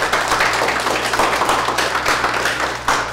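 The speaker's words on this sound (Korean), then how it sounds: "여러분 자신에게도 박수 한번 부탁합니다" A company lecture audience claps for itself at a factory talk: dense, steady applause from many hands that sounds fairly distant and holds evenly throughout.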